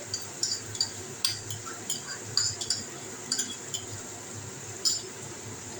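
Tomato paste with spices is sautéed in a pan, with a low steady sizzle under scattered bright metallic clinks and scrapes of stirring at an uneven pace, and no voices.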